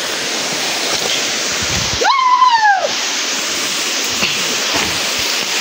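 Waterfall with rushing water, a steady loud broadband roar throughout, broken near the middle by a short rising and falling whistle-like tone.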